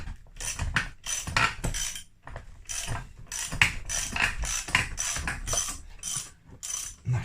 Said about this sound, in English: Just always keep tapping the back sprocket.